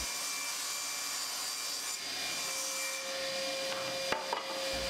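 A table saw rips a 9mm plywood panel with a steady, close whirring cut of moderate loudness, ending in a couple of brief knocks.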